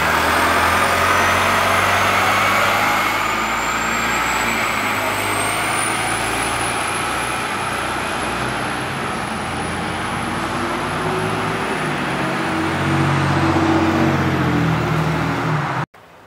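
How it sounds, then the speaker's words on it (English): A SEPTA Neoplan AN460 transit bus with a Detroit Diesel Series 50 engine runs close by, its loud steady diesel drone and whine holding for about sixteen seconds, swelling near the end before cutting off. "The special Detroit Diesel Series 50 engine has that special sound that any transit fan would fall in love with."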